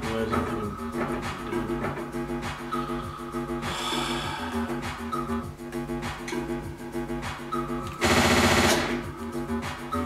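Rapid bursts of gunfire from the top-down shooter Hotline Miami ring out over a pulsing synth soundtrack, with a dense, loud volley near the end of the stretch.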